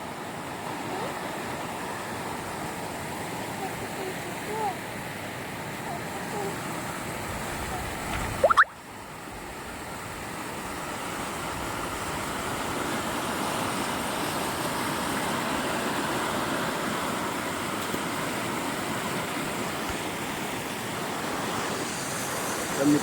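A river in full flood after the season's first heavy rain, its water rushing in a steady, loud, continuous roar, broken by one brief sharp knock partway through before the torrent carries on unchanged.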